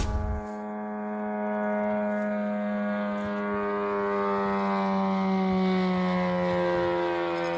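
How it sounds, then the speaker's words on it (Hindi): An Iranian Shahed drone flies over Kuwait with a loud, steady, droning engine buzz that holds without a break and swells slightly as it passes, with no other sounds around it. "कुवैत के ऊपर ईरान का शाहिद ड्रोन।"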